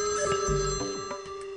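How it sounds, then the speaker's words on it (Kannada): A mobile phone rings with a steady electronic ringtone tone and bursts of chiming notes, nearby and moderately loud. "your phone is ringing"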